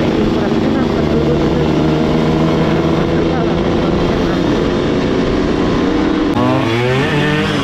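A Suzuki Satria Hiu motorcycle engine runs loud and steady at close range, a continuous droning roar with a shift in pitch near the end.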